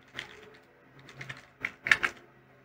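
Computer keys being typed while creating a folder and naming it, then the enter key pressed, in a Sublime Text 4 tutorial setting; irregular clicky strokes come in small bursts, the loudest near the end, close and fairly quiet.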